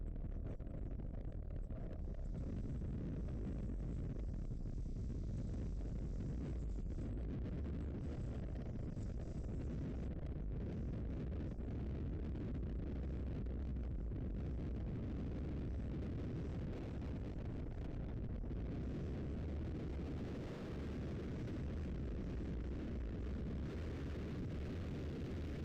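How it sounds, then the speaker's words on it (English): Strong wind roars and buffets continuously against a vehicle driving head-on into a southerly Florida storm, a loud broadband rush with gusts and no talking. "We're driving head on into the wind. The winds are coming up straight from the south right now."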